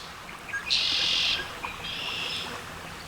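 Birds call beside a river in rural quiet: a loud, bright chirping call, then a second, softer call after a short pause, both sitting over faint outdoor hiss.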